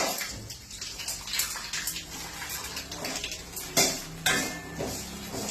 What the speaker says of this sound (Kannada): ಒಣ ಕೊಬ್ಬರಿ ಚೆನ್ನಾಗಿ ಹುರ್ಕೋಬೇಕು.